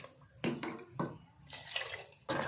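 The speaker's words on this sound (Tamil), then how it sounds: "இப்போ இதுக்கு நாம் தேவையான அளவு தண்ணி வச்சுக்கலாம்." Water poured into a pot of thatta payaru kulambu, a Tamil cowpea curry with tomato, in a home kitchen, giving several close splashing, dripping bursts with brief pauses between them.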